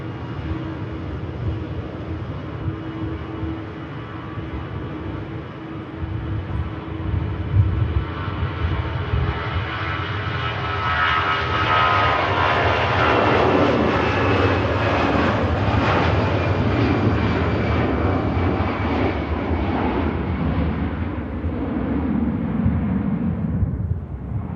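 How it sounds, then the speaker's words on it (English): EasyJet airliner bound for Paris on its takeoff roll at Manchester Airport, a loud, sustained jet engine roar that swells and sweeps in pitch as the plane accelerates down the runway, heard from a distance. "EasyJet for Paris on the takeoff roll, you can probably hear"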